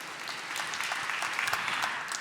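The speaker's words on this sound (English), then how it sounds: "A round of applause to Laura" An audience applauds a panelist at a discussion on segregation in education, a brief steady burst of many hands clapping with no talk over it.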